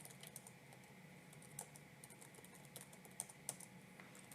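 Password tapped out on a computer keyboard, a string of faint, close key clicks with uneven rhythm and a few sharper presses near the end.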